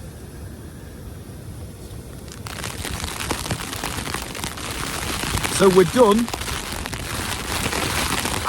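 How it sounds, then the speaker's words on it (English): Hail hitting a tent during a storm in a camping setting, a dense, sharp crackling patter that grows louder after a couple of seconds and keeps on as a voice speaks briefly. "I think there's a hailstorm coming through right now because it's quite loud and very sharp sounding."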